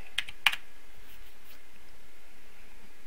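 Typing on a computer keyboard, a few quick close key clicks near the start, then quiet with faint light taps over low background hiss.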